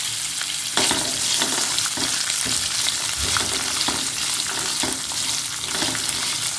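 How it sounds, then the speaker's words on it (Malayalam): Onion and coconut pieces frying in a little oil, a dense steady sizzle with soft periodic stirring scrapes, close and without voices. "നമ്മൾ വളരെ കുറച്ച് എണ്ണ തന്നെയാണ് ഒഴിച്ചു കൊടുത്തിട്ടുള്ളൂ കേട്ടോ വറുക്കാൻ വേണ്ടിയിട്ട്"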